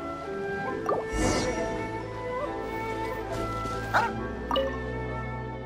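Dogs in a video game hangout scene, a few short yips and barks scattered over soft background music, with quiet squishy movement sounds between them.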